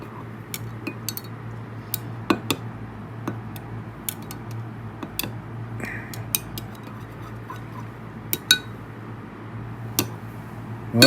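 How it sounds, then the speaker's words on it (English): Stirring a mixture in a container with a metal utensil, producing a steady series of light clinks and scrapes against the vessel, close and fairly quiet, with no talking. "Let's go ahead and stir this."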